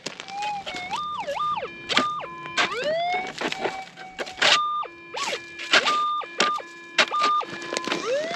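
Garrett Axiom metal detector sounding off on a buried target on a desert hillside, a loud run of warbling, rising and falling electronic tones that repeat in quick bursts with gaps between them.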